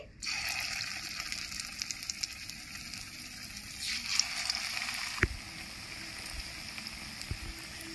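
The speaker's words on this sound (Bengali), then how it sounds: "বাদবাকি বড়াগুলো আমি ভেজে নিচ্ছি" Malabar spinach fritters (bora) fry in oil with a soft, bubbly sizzle that fades a little midway, punctuated by a few light clicks and a sharper knock.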